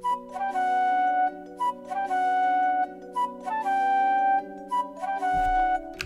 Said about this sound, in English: I'm working on the flute now, but yeah, sounds like this.